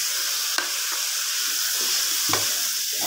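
Pasta sauce with chili sauce, soy sauce and vinegar fries in a pan, producing a continuous bright hiss with a few louder spatters and stirring scrapes, close and unaccompanied by speech.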